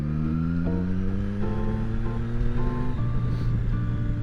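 Triumph Street Triple R motorcycle engine held at steady throttle while cornering, a continuous loud harmonic drone that shifts pitch slightly through the turn, up close and alone without talk.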